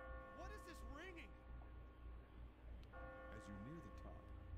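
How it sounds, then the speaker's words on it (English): Bell ringing near the exit at the top of a stair-climbing stage in the video game Catherine, soft chiming tones over game music and ambient hum, with brief talk in the background. "As you near the top, you will hear a bell ring."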